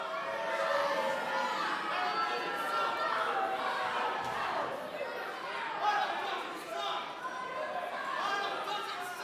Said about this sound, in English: The crowd telling Chris Hicks what they think of him.